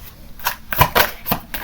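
A few quick riffles of playing cards being shuffled up close, short crisp bursts repeating in an uneven rhythm.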